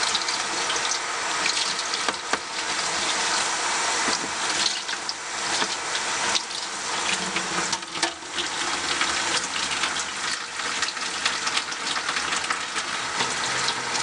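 Tap water running steadily into a sink while a makeup brush is rinsed under it, a continuous loud gushing splash with small shifts in flow, no talk.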